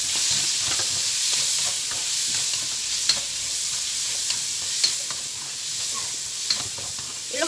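Pork igado with onion sizzling and frying in a pan, a steady close hiss broken by occasional stirring clicks and scrapes, with no voices.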